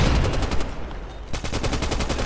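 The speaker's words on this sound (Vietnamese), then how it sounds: "Bắn các bạn thấy nổ đam đung xung quanh đó mà không chết" Rapid automatic gunfire bursts from the Call of Duty Mobile video game, loud and dense, with a brief lull before firing resumes in quick repeated shots.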